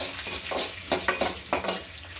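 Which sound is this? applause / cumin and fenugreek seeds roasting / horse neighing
cumin and fenugreek seeds roasting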